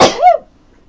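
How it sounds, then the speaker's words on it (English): One loud, sharp sneeze from a person close by, a quick burst of breath followed by silence. "Excuse me, I'm going to sneeze."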